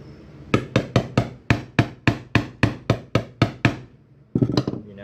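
A soft plastic fishing bait mold is whacked repeatedly, about a dozen sharp, evenly spaced knocks in a quick steady rhythm, close and loud, then a short pause before a brief flurry of rattling hits.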